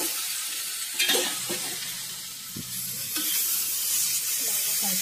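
Potatoes fry in a pan and are stirred, giving a steady bright sizzle with scraping and clinking of the spoon and a few louder stirs along the way.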